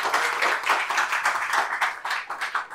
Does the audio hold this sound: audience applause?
yes